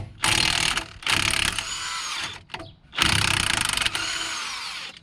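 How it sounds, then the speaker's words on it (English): An impact wrench with an 18mm socket spins off brake caliper bolts on a 2005 Renault Espace, loud close rattling bursts of about a second each, three main runs separated by short pauses and a faint clink. "18mm socket on the impact should make short work of this"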